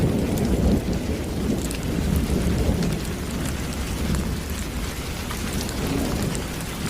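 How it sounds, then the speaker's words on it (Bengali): Heavy rain pours down continuously in a thunderstorm, a dense, loud wash of drops with deep rolling thunder rumbling underneath the whole time. "ঝমঝম করে বৃষ্টি নামলো।"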